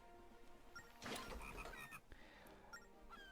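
A frog croaks in the Zelda: Phantom Hourglass video game, heard as quiet, repeated chirping croaks over faint game music and ambience, with no talking.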